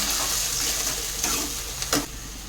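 Masala of ginger, onion, garlic and green chili sautéing in a pan, a steady close sizzle with a brief scrape near the end, no voices.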